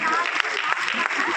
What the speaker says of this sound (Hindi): पूरे हॉल के अंदर मात्र कुछ लोग अभी ताली बजा रहे हैं